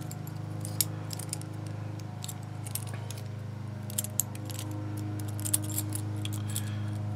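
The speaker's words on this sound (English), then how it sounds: "these keys are just moving around in here very freely" Keys jangle and clink loosely inside a KeySmart Premium keyholder, several small metallic rattles and taps scattered across the clip over a steady low background hum, close and fairly quiet.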